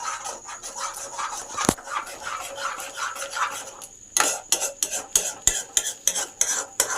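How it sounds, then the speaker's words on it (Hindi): Spoon or ladle stirring and scraping food in a cooking pan in a home kitchen, a steady rubbing scrape with a louder clack near the start, then repeated close scraping strokes in a quick uneven rhythm. "अब चलाते रहो, चलाते रहो।"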